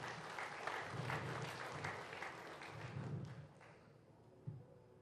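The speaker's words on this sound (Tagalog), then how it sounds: "Isa ba lang sa palakpak para sa ating Panginoon?" A congregation applauds for the Lord during a church ceremony, a faint, fairly dense round of clapping that fades toward the end, with a soft thump near the close.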